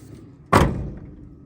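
A single loud thud as a door on an old car under body repair is shut, a sharp close impact midway that decays quickly against a quiet background.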